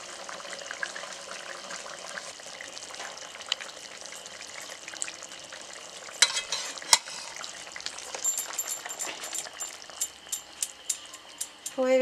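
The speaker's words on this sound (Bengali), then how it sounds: "এবার মাছ দিয়ে দিচ্ছি" Bhetki fish sizzles and spatters steadily in hot oil in a pan, with stirring scrapes and clatters growing louder and more frequent in the second half, close and continuous with no talking.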